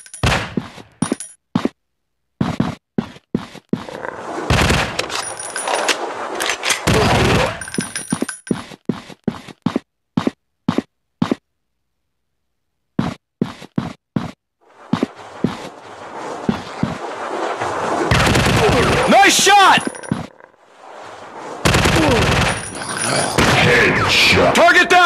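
Gunfire in the zombie shooter Zombie Fire Strike, sharp single shots in irregular bursts separated by silences, along with recurring game voice callouts and denser, noisier stretches of action.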